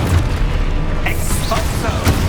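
A Confringo spell bursts with a loud, booming explosion in the video game Hogwarts Legacy, one heavy blast rolling out over the short span.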